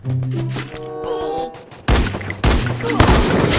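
Gunshots in a shooting video game, a few sharp booming bursts in quick succession over a busy game mix, loud and close, following a stretch of tonal game sounds.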